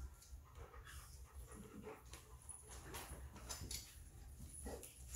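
Several dogs at a board-and-train session practicing sit with distractions, panting in quick rhythmic breaths with occasional soft whimpers, fairly quiet and close.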